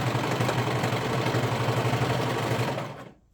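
A sewing machine stitches stretchy sweater fabric through three layers in a steady, rapid mechanical whir with a fast chattering rhythm, running for about three seconds before slowing and stopping.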